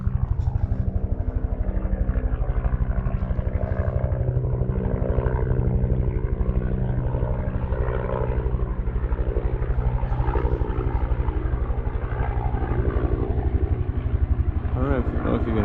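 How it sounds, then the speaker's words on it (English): Heavy-duty helicopter flying overhead in the wilderness, a loud, steady chopping drone with rapid rotor pulses that holds throughout, with people talking under it. "That's a heavy duty chopper though."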